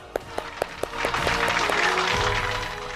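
Applause for Colombian president Gustavo Petro: a few sharp, separate claps that quickly swell into steady, sustained clapping from a crowd that carries on without a break.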